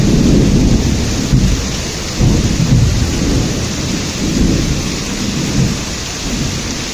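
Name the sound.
thunder cracks during a rainstorm in Rajkot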